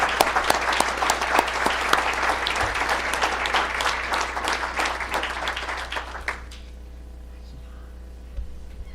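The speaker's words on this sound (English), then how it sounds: "One more hand of applause for these groups." Audience applause at a board meeting, dense and steady clapping from many hands for about six seconds, then cutting off to near silence with a faint hum and a stray sound near the end.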